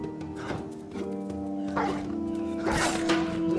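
Wolves in the video game Apotheon bark and yelp in short, overlapping bursts against a steady droning game soundtrack, fairly loud and close throughout.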